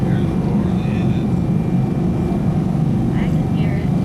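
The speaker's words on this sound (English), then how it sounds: "Here's the roar of the engine." Small airplane engine on the ground after landing at Fresno airport, a steady loud low roar filling the whole stretch, with faint voices over it.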